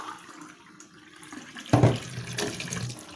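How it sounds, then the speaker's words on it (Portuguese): Tap water runs into a cooking pot to be boiled, a quiet trickle that swells into a louder gushing splash partway through and keeps flowing to the end. "Vou botar minha água aqui, ó, para ferver, tá? Vou até encher mais um pouquinho"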